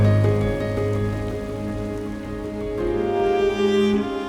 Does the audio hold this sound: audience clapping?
no